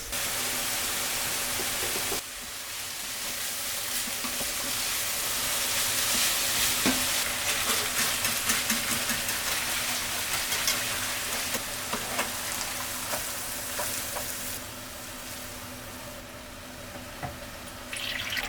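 Ground meat, aromatic vegetables and mushrooms fry in a pan for Bolognese sauce, a loud steady sizzle with scattered crackles and stirring scrapes, and a sudden jump in intensity early on, with no voices.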